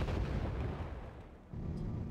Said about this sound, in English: Harrier GR7 dropping its bombs